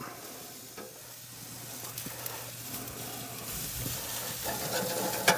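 A thin maple garlic salmon fillet sizzles on a barbecue grill as it is flipped, a steady close hiss and crackle with scraping, building a little louder toward the end and ending in a sharp tap.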